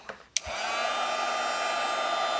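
A heat tool blows hot air to melt embossing powder on a greeting card, starting with a couple of clicks and then a loud, steady, close whirring hum that continues to the end.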